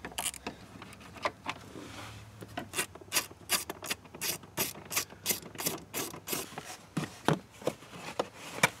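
A ratchet with a 7mm socket works on a fastener inside the dash of a Chevrolet Trailblazer, clicking in a steady series of close, regular strokes that pick up pace after a slower start.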